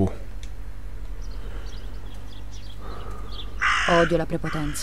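A crow caws in Martha is Dead, one harsh burst near the end following a voice speaking over quiet outdoor game ambience.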